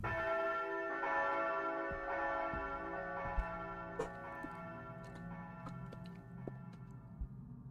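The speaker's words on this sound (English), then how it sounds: "curtain time bell that we picked up earlier." A curtain time bell rings in Castlevania: Lament of Innocence, with sustained, layered metallic tones ringing steadily and a few light ticks and taps over the continuous hum.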